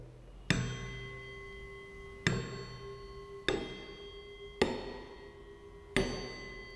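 Five bright, ringing metallic strikes on jal tarang bowls at roughly even intervals, each tone decaying slowly, with different pitches.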